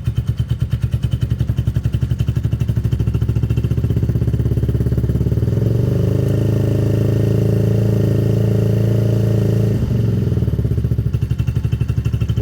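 A Benelli motorcycle engine idles while it warms up, a steady close-up putter with an even mechanical rhythm and no voices over it.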